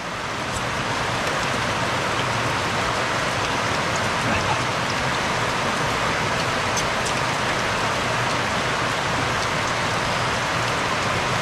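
Steady rain falling on a rainy day, a dense continuous hiss of drops on surfaces, even and close throughout with faint traffic-like rumble underneath.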